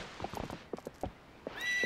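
Epona, Link's horse in the video game The Legend of Zelda: Twilight Princess, gives a close, loud whinny among a string of short hoof clip-clops and thuds, with a bright rising squeal near the end.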